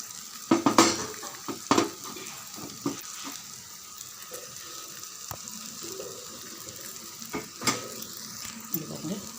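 Okra frying with garlic in a pan over a low stove flame: a soft steady sizzle with sharp metal spatula clinks and scrapes against the pan, and a voice talking over it.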